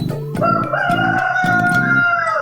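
A rooster crows once in a long, loud, close cock-a-doodle-doo, its call rising and holding steady before trailing off, with faint clucking underneath and no talk.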